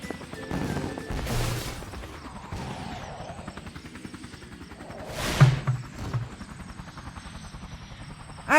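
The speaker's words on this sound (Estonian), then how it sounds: "Veel üks helikopter!" A helicopter's rapid rotor chop thumps through the scene, rising and fading, mixed with cartoon-style whooshes and crashes.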